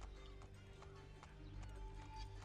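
Horse hooves clip-clop in a steady rhythm with a brief whinny, set in the game Assassin's Creed 3, over a low ambient game background at a quiet level.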